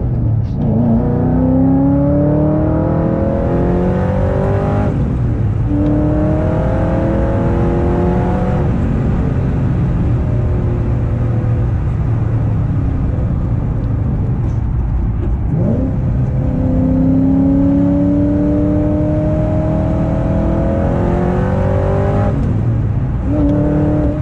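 Ford GT sports car exhaust while driving, heard from inside: loud, sustained engine roar rising through repeated revving sweeps with brief drops at gear changes, close and continuous.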